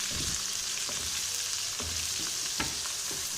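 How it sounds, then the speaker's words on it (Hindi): Onions fry in hot oil for baingan bharta, giving a steady close sizzle with a few soft stirring knocks, no talking. "प्याज अच्छी तरह फ्राई हो जाए तो फिर इसके अंदर हमने बाकी चीज़ें डाल ली हैं"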